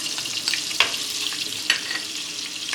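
Chopped onion frying in margarine and a little water in a pan, a loud, steady hiss and bubbling sizzle, broken by a few sharp crackles and pops where it is stirred, with no voice.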